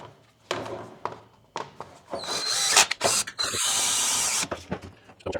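A power drill bores holes for a Tuffy lockbox in a Jeep JL tailgate: short rattling bursts at first, then a long, loud, close grinding run broken by brief pauses.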